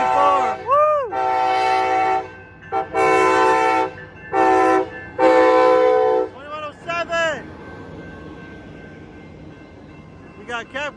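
Amtrak San Joaquin passenger train 715 northbound, led by an SC44 locomotive with a cab car, passing Antioch Marina and sounding a loud horn in several long blasts, followed by rail rumble and bell-like tones, with brief talk nearby.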